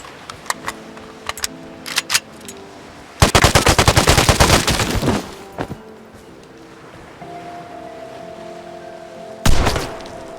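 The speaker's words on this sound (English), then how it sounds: "Someone's shooting at me." Gunfire in the video game Vigor: scattered single shots early, then a dense rapid burst of automatic fire lasting a couple of seconds, followed by another short loud volley near the end, with a steady tone humming in between.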